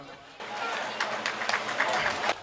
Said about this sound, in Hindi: आपकी कमजोर तालियों के लिए बहुत बहुत धन्यवाद